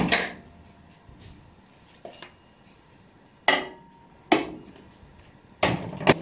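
Chocolate cake batter being put into a microwave, a series of sharp clinks and clatters of dishes and the appliance handled in a quiet kitchen, spaced irregularly with one louder knock near the end.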